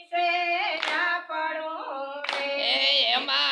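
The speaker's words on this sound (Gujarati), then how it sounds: "તાળી પાડો" A couple of crisp hand claps keep a slow beat beneath a woman singing a Gujarati devotional kirtan, the voice dominating and the claps brief and spaced apart.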